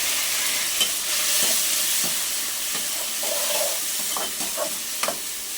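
Chopped tomatoes frying with golden onions in a pan for a Telugu garlic-chili tamarind curry, giving a steady sizzle and hiss with occasional stirring clinks and scrapes, close and alone.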